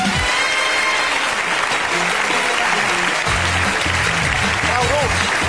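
A German TV studio audience gives Claudia Roth, head of Bündnis 90/Die Grünen, a welcome of loud, dense applause that holds steady from start to finish.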